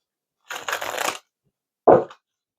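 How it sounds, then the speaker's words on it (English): Two short bursts of tarot cards being riffled and tapped together, close up, separated by a brief silence. "Sometimes these cards shuffle better than others."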